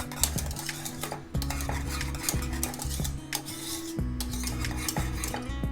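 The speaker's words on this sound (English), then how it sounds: "you just want to dump that in and make sure you mix it through" A utensil stirs vanilla extract into pudding mixture in a pot, scraping and knocking against the pan in repeated strokes with a faint sizzle underneath, close and alone.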